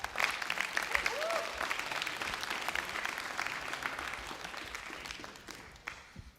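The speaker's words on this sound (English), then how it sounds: "Let's give this entire group a round of applause." A senior class banquet audience gives a round of applause, steady crowd clapping that holds for several seconds before fading, with a faint voice or cheer mixed in.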